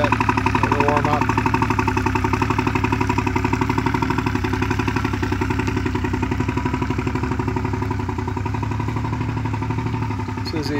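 A 1969 Crestliner Marauder runabout boat's engine idles as it warms up after a cold start, a loud, steady, rhythmic mechanical thrum with faint clatter running evenly throughout.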